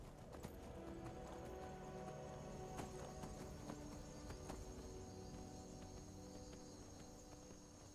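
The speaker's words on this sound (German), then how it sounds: "Schneller reiten kann das Pferd auch nicht" Horse hooves clip-clop steadily in Skyrim Special Edition, a continuous ridden gait under game ambience with crickets and insects, plus a brief whinny; the hoofbeats stay fairly near and even throughout.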